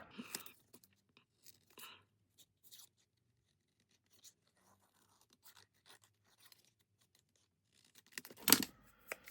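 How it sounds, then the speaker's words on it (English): Scissors cut out a paper card piece for a white-on-white Christmas card, with sparse quiet snips and paper rustles that give way to a louder crinkling burst near the end; no speech. "So I'll just cut this one out."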